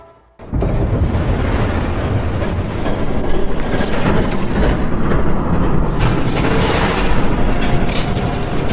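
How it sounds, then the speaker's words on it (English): Train passing by, starting abruptly after a brief quiet moment and then roaring loudly and continuously close by, with rumbling surges and bursts of high rattle toward the end; no talk. "There's a train coming."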